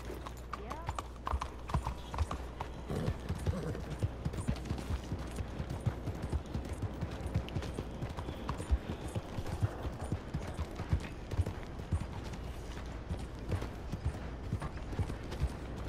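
Horse hooves clip-clop steadily in Red Dead Redemption 2, a continuous rhythmic clatter running throughout with someone talking over it.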